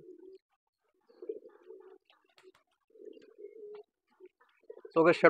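A large Sirazi pigeon coos in low, soft repeated phrases, close by, followed by a brief burst of wing flutter at the end.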